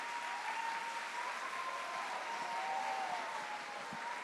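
Steady applause from a large audience, a continuous wash of clapping heard at a moderate distance.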